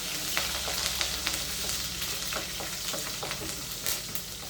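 Curry leaves fry in hot oil in a pan while cooking milagu kulambu, a steady close sizzle broken by sharp crackles and pops, with occasional stirring scrapes.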